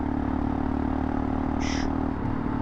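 Yamaha Tenere motorcycle engine running steadily while rolling downhill off load, a continuous low drone with a brief higher whine partway through, close and fairly loud, no talking.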